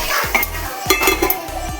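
Spiced vegetables in a cooking pot being stirred as water goes in, with close, loud scraping clinks of a utensil against the pot and a brief sizzle in quick repeated strokes.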